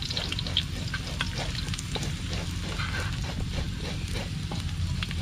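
Onion and ginger sizzle and crackle steadily in a hot pan, with stirring scrapes and pops throughout, close and continuous with no talk.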